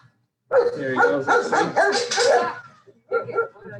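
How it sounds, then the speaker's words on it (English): Excited farm watchdogs bark in a rapid, loud burst of overlapping yelps and woofs at feeding time, a brief pause, then another short round of barking, with a voice speaking briefly alongside. "You can hear them barking."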